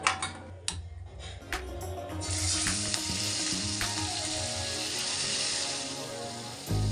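Fish frying in a pan for a Tamil home lunch, a loud steady sizzle and crackle that swells after a few seconds of clinks and stirring and continues close and unbroken.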